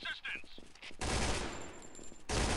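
Rapid gunfire in Point Blank Strike, the mobile shooter: dense bursts of automatic shots, loud and close, broken by a short pause before a final burst, with a voice speaking briefly near the start.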